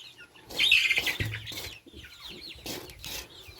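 Upgraded native chickens cluck and chirp close by in a short, busy burst of calls, fairly faint and with no talking.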